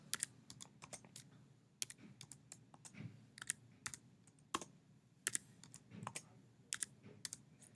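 Scores being entered on a computer keyboard: soft, irregular key clicks at close range, quiet and steady, with no voices.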